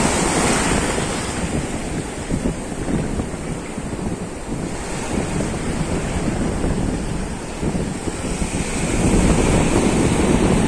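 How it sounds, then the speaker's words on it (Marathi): Sea waves roll onto a village beach, a continuous loud roar of surf mixed with gusty wind rumble on the microphone, swelling again near the end. "समोर पाहताय हा तुम्ही अथांग असा समुद्र."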